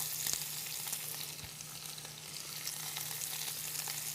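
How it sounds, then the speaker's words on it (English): Rosemary leaves sauté and sizzle in a hot pan, a steady close frying hiss with faint crackles and a few soft stirring taps, no voices. "toss that around a little bit, saute it for about 6 to 8 minutes"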